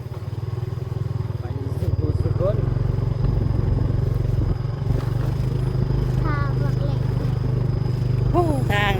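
An approaching farm tractor's loud, steady engine drone with a low rumbling chug dominates throughout, close by, with people talking over it.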